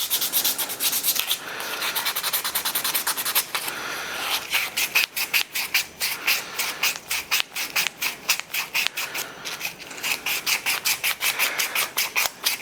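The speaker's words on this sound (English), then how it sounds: "Giving this a quick sand with sandpaper, just to take some of the lines off the resin" Hand sanding of a resin and wood ring with sandpaper, a steady rhythmic scratching of quick back-and-forth strokes, close and fairly loud, with no voices.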